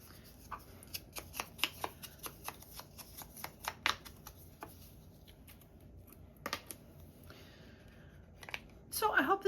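Scissors snip through paper scraps in a series of quick, close crisp cuts, some in rapid bursts, with pauses between and a rustle of paper near the end.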